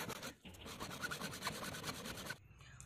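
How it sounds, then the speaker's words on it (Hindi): Hand saw cutting HDPE pipe, a quick run of rhythmic rasping strokes, close and moderately quiet, ending abruptly. "आरी से आप काट सकते हैं"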